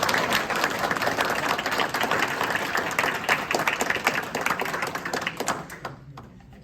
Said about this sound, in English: Can we give Thomas and Bethany a round of applause?